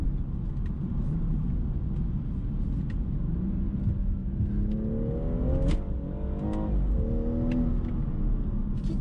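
Inside the cabin of a BMW M240i, the six-cylinder engine drones as a low rumble, then climbs in pitch as it revs, with faint clicks over the steady interior hum.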